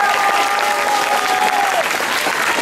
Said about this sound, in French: Je vous demande de les applaudir très très fort.